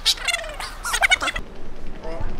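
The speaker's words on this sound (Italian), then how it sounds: "Quindi godetevi 30 secondi di polli." Chickens calling in quick, high squawks and bubbling gobble-like bursts close by, fading to quieter background noise.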